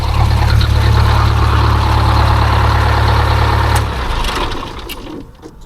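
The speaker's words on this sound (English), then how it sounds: "Let's turn this engine off." A Detroit Diesel 8V-71 engine idles loud and close with a heavy, even rumble, then is shut off and winds down over its last seconds.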